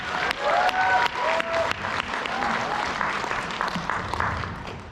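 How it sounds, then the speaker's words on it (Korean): Loud, dense applause from a seminar audience at a resort event fills the room steadily, with a few brief voices breaking through near the start before the clapping carries on evenly. "여러분들 박수 한 번 더 크게 한번 좀."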